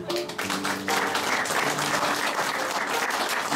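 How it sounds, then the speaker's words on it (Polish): Warm audience applause for a violinist at a concert, a full steady round of clapping from the crowd with faint traces of a voice at the start. "Ania, może duże brawa dla niej."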